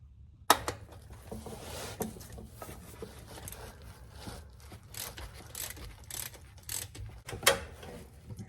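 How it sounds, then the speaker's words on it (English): Faint metallic ratcheting and clicking as a wrench loosens the transmission pan bolts on a C3 Corvette, in uneven bursts with sharper clicks now and then, with no voices. "I'm just gonna pull all the bolts along the pan and get it draining down here into the litter box."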